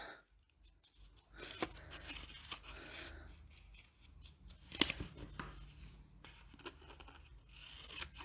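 Stampin' Up! designer series paper being cut with scissors nearby, with soft snips and rustling of the sheet at an uneven pace and one sharper cut near the middle, quiet overall with no talk.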